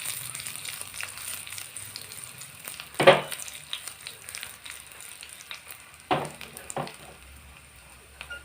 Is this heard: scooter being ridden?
no